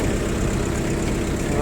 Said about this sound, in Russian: Работает двигатель очень и очень приятно, повторюсь.